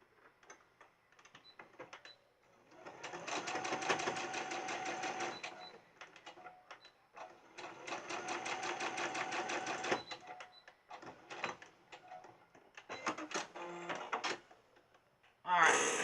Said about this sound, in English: I'm just going to put a top stitch just right up here at the top